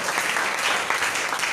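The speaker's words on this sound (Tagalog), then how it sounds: "Palakpak sa ating Panginoon at kapatid." A church congregation claps together after a prayer, an even, continuous burst of applause from the gathered worshippers lasting the whole moment with no talking over it.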